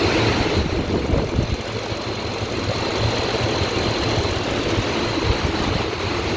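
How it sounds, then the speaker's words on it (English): Mercedes GLE 63 from 2017 with 65,000 km, revving steadily around 3000 RPM in neutral, a continuous, even engine drone with no gear engaged, held at constant pitch throughout. "Keep 3000 RPMs. No gear, no gear."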